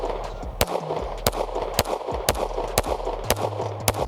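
Staccato CS and C2 pistols fire at a range, about eight sharp, close shots in an even, measured rhythm over a steady background hum.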